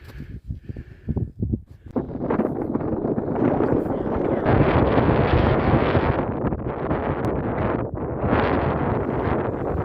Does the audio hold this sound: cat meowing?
no